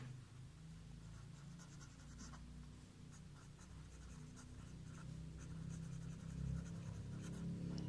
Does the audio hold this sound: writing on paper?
yes